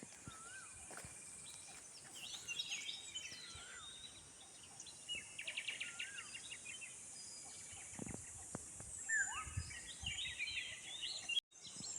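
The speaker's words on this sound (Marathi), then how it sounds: "सकाळी सकाळी जो पक्ष्यांचा आवाज असतो किलबिल तो बघा किती मस्त" Several birds chirp and twitter outdoors in bright overlapping calls, with quick repeated trills, over a low steady background hum of insects.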